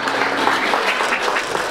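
Young audience at a children's dance party show applauds steadily, a dense wash of clapping sustained throughout at moderate loudness with no voices standing out.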